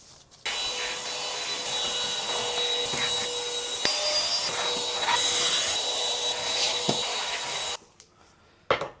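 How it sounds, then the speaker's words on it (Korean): A vacuum cleaner runs over the floor of an Airbnb apartment in Haeundae, Busan, with a steady high whine and roar for about seven seconds that then cuts off, followed by a short thump. "청소기로 바닥을 청소해요"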